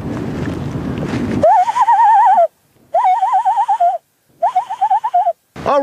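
A loon's tremolo call imitated by blowing through cupped hands: rapid warbling, wavering whistled bursts in three or four loud phrases with brief pauses, after an opening second of breathy rustling noise.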